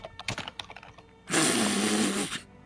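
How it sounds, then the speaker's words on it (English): A cat walking across a computer keyboard, a dense burst of key clatter lasting about a second, loud and close, following scattered quieter sounds. "That was the cat muting Zhu and typing as well."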